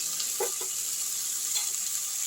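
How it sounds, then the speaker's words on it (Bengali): Tomato, pumpkin, eggplant and potato frying in a pan, a constant close hiss of hot oil broken by a few brief scraping stirs from a spoon. "একটু নাড়াচাড়া করছি এটা আরেকটু ভাজা হবে কুমড়ো বেগুন আলু টমেটো সব মোটামুটি ভাজা ভাজা হয়েছে"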